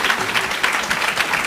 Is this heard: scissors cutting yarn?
no